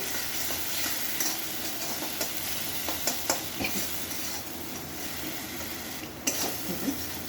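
Spice masala for chholar dal fries in a pan with a steady, moderate sizzle, punctuated by irregular scraping taps from stirring, and no one speaking.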